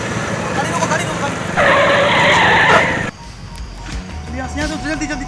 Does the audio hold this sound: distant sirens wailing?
no